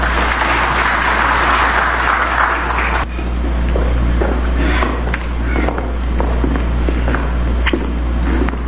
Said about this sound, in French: Maître Pierre-Louis, sous vos applaudissements, s'il vous plaît.